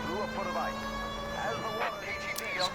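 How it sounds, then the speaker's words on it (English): A police car siren in the video game L.A. Noire wails in a rising and falling pattern over an engine hum. A voice speaks over part of it. "Let's put the sirens on again."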